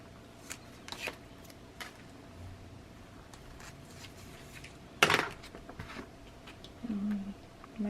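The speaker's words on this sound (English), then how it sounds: "So we're going to remove the tape backing." Tape backing is peeled off an acetate pocket for a crafted accordion pull-out page, giving a brief crackling rip. Faint handling taps and rustles come before and after it in a quiet room.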